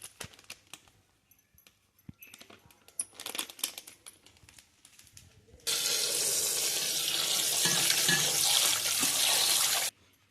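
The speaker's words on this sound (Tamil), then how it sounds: "கறியை வந்து பொடி பொடியாக கட் பண்ணி வச்சு உப்பு மஞ்சத்தூள் போட்டு க்ளீன் பண்ணி" Chopped chicken pieces with salt and turmeric rustle and clatter in a vessel, then a steady, loud rush of tap water runs for several seconds before stopping abruptly.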